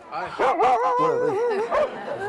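Dogs at a large dog festival barking and yipping close by, a few sharp yelps followed by a whining, howl-like vocal run, loud and alone.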